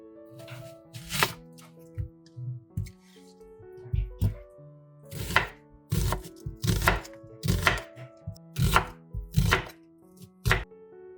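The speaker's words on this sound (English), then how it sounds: "Cut an onion." A knife chopping an onion on a board, with repeated sharp close cuts in irregular bursts of two or three strokes spread across the whole stretch, with no talk.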